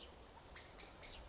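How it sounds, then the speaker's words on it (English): Small birds chirp in short bright bursts across snowy hills, several quick calls spaced close together over a faint, quiet outdoor hush. "And these unruly birds"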